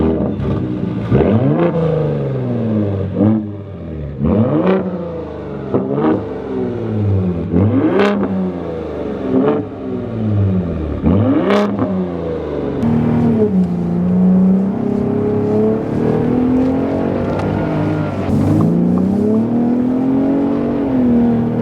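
Ford Raptor V6 truck engine revving hard through repeated rising and falling sweeps, then a steadier drone of acceleration, loud and close with no talk.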